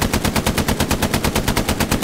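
Machine-gun fire in the World War II shooter Hell Let Loose: a steady, loud, rapid stream of automatic shots at an even rhythm, close and continuous throughout.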